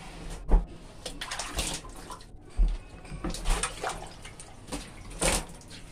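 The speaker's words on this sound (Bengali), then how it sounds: "এটা পরিষ্কার জল, পরিষ্কার জল দিচ্ছি।" Clean water splashes and sloshes into a home water storage tank being cleaned, in uneven close gushes and spatters with no talking.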